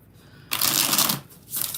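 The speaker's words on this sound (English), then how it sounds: "One more shuffle for Mark." A deck of cards is shuffled once in a quick, close riffle, a crisp burst of flicking lasting under a second, and a softer rustle follows.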